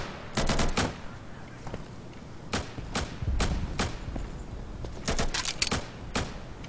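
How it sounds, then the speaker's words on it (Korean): Gunfire in the realistic hardcore shooter Insurgency rings out in scattered sharp shots and quick clustered bursts, some close and loud, others more distant, with brief gaps between volleys. "웬 총알? 오인 사격 아니지?"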